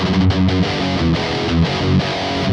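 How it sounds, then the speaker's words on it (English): Heavily distorted rhythm guitar through a Kemper amp profile with a lot of low end chugs out dense, loud chords in a driving rhythm, alone and close. "the rhythm guitar sounds something like this"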